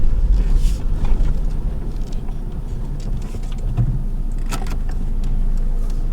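A Hyundai SUV driving up from behind and passing on a road, a steady low engine and tyre rumble that swells slightly, with faint rattles and clicks from inside a moving car.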